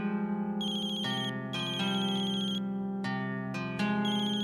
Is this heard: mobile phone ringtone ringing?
yes